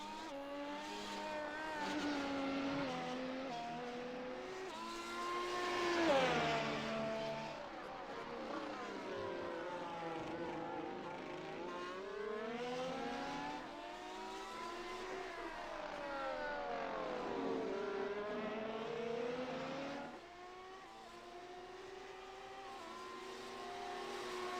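Race cars from the F1 Challenge game lapping the Nürburgring, their engines whining steadily and sweeping up and down in pitch as they pass and shift, loud and continuous for the whole stretch.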